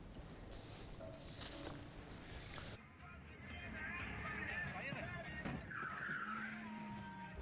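A car crash involving a VAZ-2109 and a Lada Priora on a road between Sunzha and Nazran, captured on a mobile phone, with tires skidding and engine noise amid rough, fairly faint road sound.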